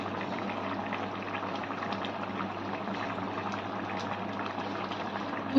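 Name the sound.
liquid milk poured into cooking greens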